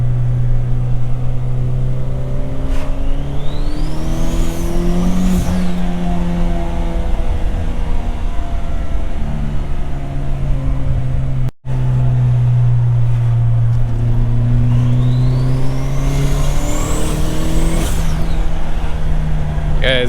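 Honda Accord on a test drive after an electric power steering column swap, a steady loud engine drone with rising revs and tire noise throughout, one brief dropout partway.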